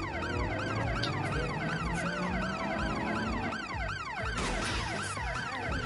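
Wailing police car siren in the video game Watch Dogs Legion, loud and close with fast repeating up-and-down sweeps layered over each other, plus road noise underneath and no talking.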